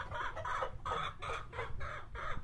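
Chickens and roosters cluck repeatedly inside a chicken house on a farm, a steady run of bursts with a constant low hum underneath and no talking.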